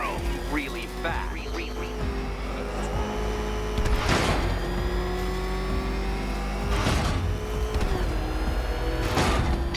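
Batmobile engine in Batman: Arkham Knight, a steady, loud mechanical drone with repeated surging revs and whooshes every few seconds, layered over a constant low rumble.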